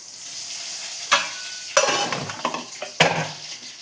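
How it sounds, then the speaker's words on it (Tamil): Mustard seeds go into hot oil to temper rasam, and a series of loud bursts of sizzling and spattering follow with clattering as the pan is stirred, close up. "ஓ கடுகு போடுறேன்"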